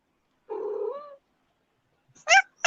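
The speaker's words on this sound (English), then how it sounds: "That's my cat. She's shouting at me because she's hungry." A hungry cat meows loudly and close by: one long drawn-out call, a pause, then two shorter, sharper meows in quick succession.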